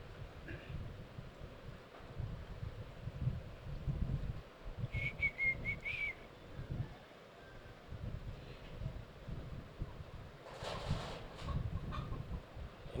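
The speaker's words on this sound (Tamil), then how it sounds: "என்ன கோழியெல்லாம் ஓடுது?" Chickens cluck and scurry about outdoors, with faint bird calls and a brief high whistle-like squawk over a low rumbling, windy background, no talking.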